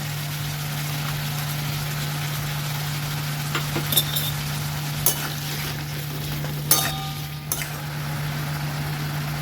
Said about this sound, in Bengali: এবার ফ্লেমটা বাড়িয়ে একটু কষে নিচ্ছি মশলাটাকে